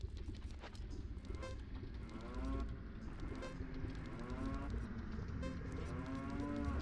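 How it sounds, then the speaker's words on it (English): Hover boots in the video game Zelda: Ocarina of Time, giving repeated mooing-like warbling tones that interrupt one another over a busy game soundtrack, moderately loud. "Sounds like mooing that's like interrupted by more mooing."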